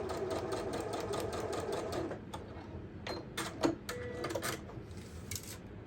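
Sewing machine stitching an accent onto the front panel of a book tote bag, a fast steady needle rhythm for two seconds, then short stop-start bursts with clicks and handling noise, close and fairly quiet.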